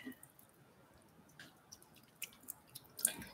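A Japanese makeup brush is wetted under water, giving faint, sporadic soft drips and small wet squishes close by in a quiet room, with no talking.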